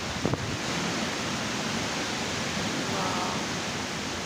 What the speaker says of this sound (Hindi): देखिए कितनी तेज़ आंधी पानी आया हुआ